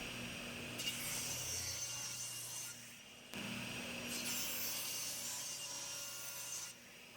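Wood is sawn by hand in long, steady rasping strokes with a brief pause between passes, close and fairly quiet.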